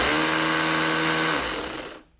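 An SDS rotary hammer drill bores into brick with a loud, steady, grinding roar for about two seconds, then quickly winds down to silence.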